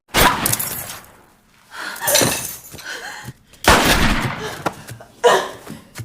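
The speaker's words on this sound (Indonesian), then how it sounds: "tiba-tiba Boknam dihujani tembakan" Gunfire from a film scene as a wounded fugitive trying to unlock a holding-cell door is suddenly shot at, heard as several loud, sharp bursts in quick succession with ringing decay between them.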